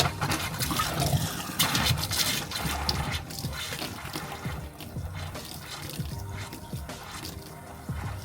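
Sink faucet in an RV running during winterization, water splashing and trickling into the basin with uneven drips, loudest at the start and easing to a softer steady flow.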